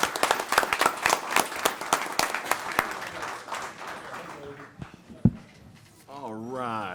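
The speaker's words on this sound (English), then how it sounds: "we give them a round of applause for their service" Audience at a county commissioners' board meeting gives a round of applause, brisk, distinct claps for several seconds that thin out and fade, followed by a thump and then a voice speaking.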